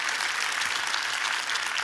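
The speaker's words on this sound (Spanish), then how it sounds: "Un aplauso a Dios por su sabiduría en ello" A church congregation claps together in a sustained, dense burst of applause that fills the room evenly from start to finish, with no single voice standing out.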